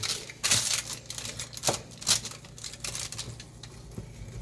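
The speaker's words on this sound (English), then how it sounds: "Best way to cut brownies." Fudgy brownies being sliced with a knife, giving a few soft tapping cuts and scrapes against the pan, close and fairly quiet with short pauses between strokes.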